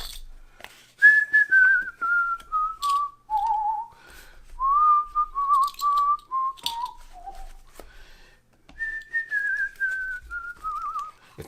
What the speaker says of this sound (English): If that whistle is annoying